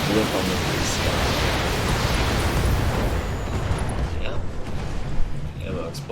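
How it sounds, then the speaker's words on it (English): An ammo explosion in the BattleTech video game: a dense, roaring blast of noise that holds for several seconds, then thins out into scattered pops and crackles. "Ammo explosion, ammo destroyed, pilot incapacitated"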